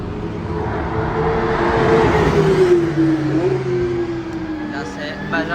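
A Porsche GT3 RS accelerates away on a track, its engine rising in a loud rasping howl that sweeps down as it pulls off, while someone talks over it.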